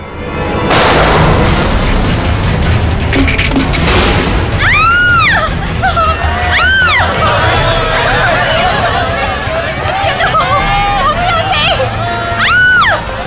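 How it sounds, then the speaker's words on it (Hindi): A loud gunshot-like boom rings out early, followed by commotion and overlapping voices with a dense, noisy background throughout. "अरे गोली चलने की आवाज कहाँ से आई?"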